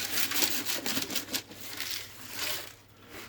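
A container is shaken with gritty material inside to knock flaky loose rust off, giving a continuous rough rattling and scraping churn that rises and falls in steady waves, fairly close.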